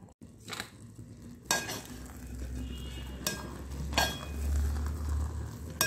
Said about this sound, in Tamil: கொதிக்கிறது பாருங்கள், நல்லா கொதிக்கணும், நல்லா வேகணும்.